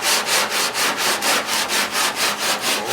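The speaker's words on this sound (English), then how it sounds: "Sanding." Rhythmic back-and-forth sanding on the body of a 1968 Mustang, about a dozen steady broadband strokes in three seconds, close and loud with no talk.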